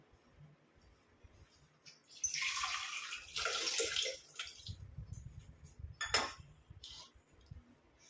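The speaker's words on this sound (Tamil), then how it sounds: "ரொம்ப திக்காக இருக்கிற மாதிரி ஃபீல் ஆனிச்சுன்னா கொஞ்சம் தண்ணி ஆட் பண்ணிக்கோங்க" Water gushes and splashes into an iron pan for a couple of seconds, then eases into softer trickling and a few clinks.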